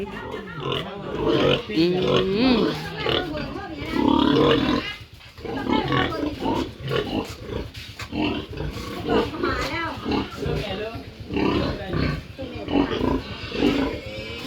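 Piglets grunting and squealing on a farm, with busy animal noise running throughout and people talking over it.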